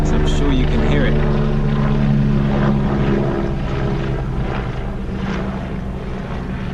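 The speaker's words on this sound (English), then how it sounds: "we have a helicopter flying over making lots of noise" A helicopter passes overhead, a loud, steady broadband rotor and engine roar that fills the whole clip and eases slightly toward the end, with no talk over it.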